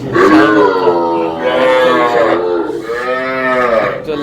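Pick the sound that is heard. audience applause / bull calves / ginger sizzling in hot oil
bull calves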